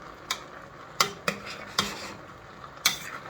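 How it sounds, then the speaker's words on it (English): Seafood okra soup being stirred in a pot, with a handful of distinct clinks and scrapes of a spoon against the pot spaced irregularly over a soft background, close and moderately quiet. "I try to give it a stir so that these guys will make their way"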